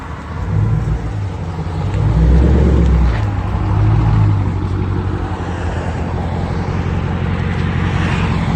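A Dodge Charger R/T with a 5.7-litre HEMI V8 idles on straight pipes or a Flowmaster Flow FX exhaust, a loud, deep, steady rumble with a low throb that swells slightly early on, heard alone without talk.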